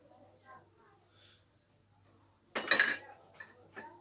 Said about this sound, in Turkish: Tencereye 5 su bardağı kadar şeker koyuyorum.